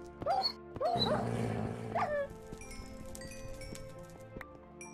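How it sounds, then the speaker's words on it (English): A dog in a video game barks and yips several times in quick bursts over the first two seconds, close and clear, followed by quieter whimpering tones over a faint droning game background. "I saw that dog come around the corner."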